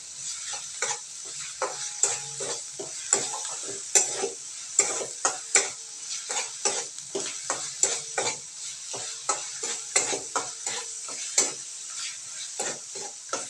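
Pieces of mutton are roasted in oil and stirred hard, with a dense run of quick scraping, clattering strokes over a steady bright sizzle, close and fairly loud throughout.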